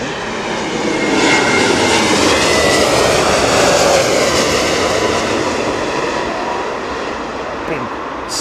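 A Lufthansa airliner landing in a strong crosswind at Heathrow during a storm, a loud, sustained engine roar that rises and holds, then gradually eases off.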